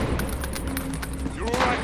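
Gunfire in the Call of Duty Warzone Special Ops Pitch Black mode: a quick cluster of sharp shots cracks over a busy background, with voices faintly present.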